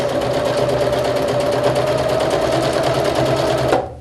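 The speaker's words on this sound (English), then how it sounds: "sewing through thick blue jeans" A sewing machine stitches through thick blue denim in one continuous, loud, even whir that cuts off abruptly near the end.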